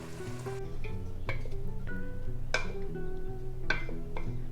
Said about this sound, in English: So now we lower the heat to simmer, and we let the jam simmer for 30 minutes so it can thicken up.